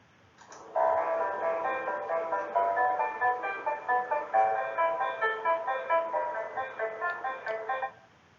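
A pop chord progression plays on a bright, bell-like synthesized keyboard tone, the chords struck in a steady repeating rhythm for several seconds and then stopping, clear and alone with no voices.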